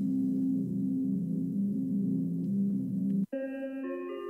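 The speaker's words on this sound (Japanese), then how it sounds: "これさっきの電話待ちの音だよね。" A phone call waiting tone plays in a horror escape video game set in modern Japan, a low steady electronic hum that breaks off sharply and switches to a brighter layered tone.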